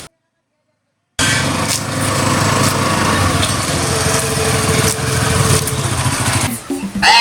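After a second of silence, a motorcycle engine starts and runs with a buzzing, high-revving drone close by, steady for several seconds before cutting off, with faint voices near the end.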